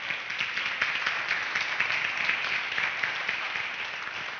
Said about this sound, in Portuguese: Posso ouvir uma salva de palmas para Jesus?